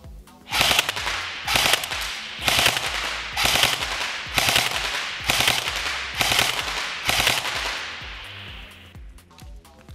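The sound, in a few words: airsoft rifle firing full auto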